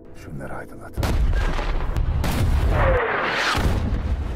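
Heavy artillery fire in an action film battle scene, loud booming blasts and rumbling impacts layered with dense gunfire and whistling effects, continuous and close for a few seconds.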